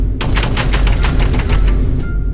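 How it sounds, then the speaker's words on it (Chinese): A joke door-opening sound effect from an abstract sound pack for Minecraft Bed Wars plays as a loud, rapid burst of about a dozen sharp bangs, like machine-gun fire, ending abruptly. "这是开门的音效。"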